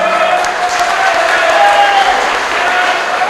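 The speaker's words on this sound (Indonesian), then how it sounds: "Kita beri tepuk tangan meriah kepada ketiga-tiganya" An audience at a 2015 regional regent candidates' debate in Demak, Central Java, applauds three candidates: dense, loud, continuous clapping from a crowd in a hall.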